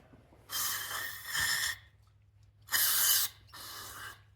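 Three hissing bursts of aerosol cleaner sprayed into a carburetor of a 1971 Ford Highboy truck, each lasting about a second, close up over a low steady hum.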